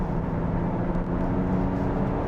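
Genesis GV80 diesel SUV accelerating hard in comfort mode on a country road: a steady, loud low engine and road drone heard from inside the cabin, with no speech.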